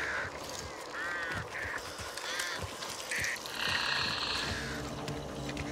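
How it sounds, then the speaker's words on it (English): A flock of crows in the video game Back 4 Blood gives repeated harsh caws, several overlapping calls at mid distance over a steady ambient background. "Careful, block of birds there."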